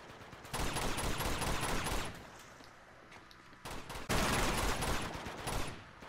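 Enemy gunfire in Uncharted 2: Among Thieves, heavy bursts of shooting in two loud waves separated by a quieter stretch, fairly close and dense.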